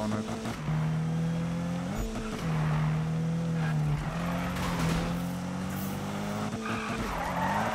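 Car drifting through tight corners in the Need For Speed racing video game, with a loud continuous engine drone that rises and falls between gear shifts and screeching tires sliding throughout, no talk over it.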